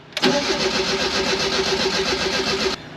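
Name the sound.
Fiat X1/9 engine starting after replacement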